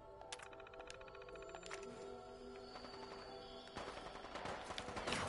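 Automated turret gunfire in the video game Fallout 4, rapid bursts of shots and sharp cracks over a busy layer of game sounds, growing denser and louder toward the end, with no talk.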